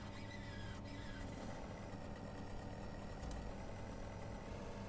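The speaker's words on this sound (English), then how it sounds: "then we'll start hearing the starter coming online" A Me 262 jet engine starter in a flight simulator game runs as a steady mechanical whine with a low rumbling drone, constant and fairly loud throughout, with a faint higher squeal near the start.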